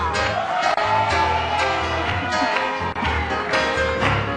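Studio audience for a television talk show cheering and applauding, a dense continuous wash of crowd noise with shouts and whoops layered over steady clapping and music-like hum, loud and close.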